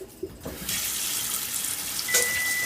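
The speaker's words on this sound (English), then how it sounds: "Run some cold water." Cold water runs steadily from a kitchen tap into a sink after hot water is drained, a continuous broadband splash that fills the clip with a brief clunk near the start.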